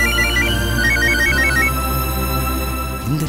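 A telephone rings with a repeating electronic melodic ringtone, loud and close, playing continuously over a low background hum.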